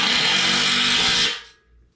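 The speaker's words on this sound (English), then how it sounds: "Did I not drill through that one yet?" Power drill boring through a metal part of a propane burner, a loud steady whine that runs for over a second and then winds down, with no talk.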